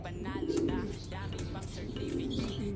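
Pigeons coo in low, soft, rolling calls, heard twice close by, while people talk over them.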